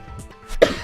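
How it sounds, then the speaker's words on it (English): A single sharp cough from a person close to the microphone, preceded by a brief breath and faint background, sudden and fairly loud. "Need a cough again."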